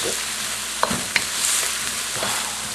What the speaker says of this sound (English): I'm going to add in my ginger